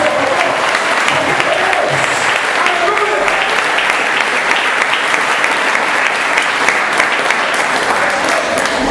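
Loud, sustained applause fills a church worship service at a praise congress, a dense continuous wash of clapping from a large congregation with voices shouting over it.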